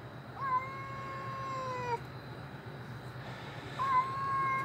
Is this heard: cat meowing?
yes